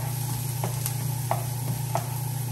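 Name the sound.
garlic sizzling in a pan while being stirred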